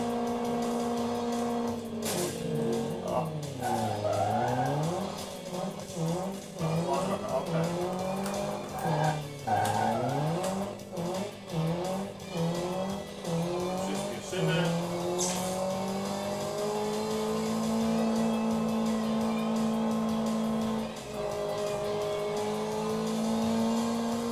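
Car racing video game played with a USB steering wheel on Android TV: engine revs rise and fall in sweeping pitch arcs with tyre squeals and skids, under steady game engine drone.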